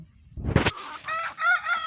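A rooster crows and hens cluck close by as free-range country chickens are let out in the morning. A sharp call comes first, then longer crowing tones that rise and fall, clear and loud with no talk.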